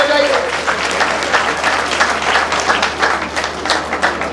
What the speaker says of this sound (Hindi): चलिए बजाइए तालियां महिलाओं के लिए,